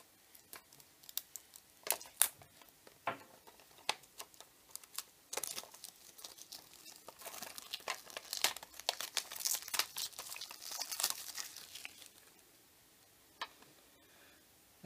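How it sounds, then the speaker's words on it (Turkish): Plastic wrapping being peeled and torn off a music cassette, heard close but quietly as a long run of crinkling, crackling and small tearing sounds that build in the middle and then taper off, with no voices. "Beraber bir kaseti açalım şimdi."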